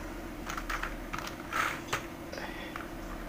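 Fingers tap out a short burst of keystrokes on a computer keyboard, close and fairly faint over a steady background hum.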